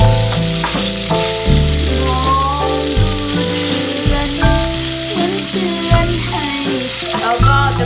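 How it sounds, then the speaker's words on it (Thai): Ingredients for braised eggs and soft pork bones stir-fry in a hot pan, with a continuous close sizzle, bursts of stirring and a steady tonal layer running underneath. "คั่วไปอีกนิดนะจ๊ะ เพื่อให้เกิดความหอมจ้ะ"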